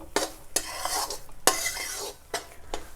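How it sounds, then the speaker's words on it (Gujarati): A spoon scrapes and clinks against a pan as flour is roasted in ghee over a medium gas flame for laddu, with a faint sizzle beneath several sharp taps, quiet and close. "તો હજી આપણે 5-1 મિનિટ જેવું શેકી લઈશું"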